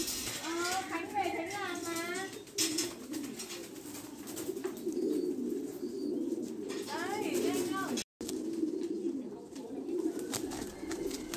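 Thai Titan meat pigeons in farm cages coo repeatedly, with several soft rising-falling calls over a steady low hum of the coop.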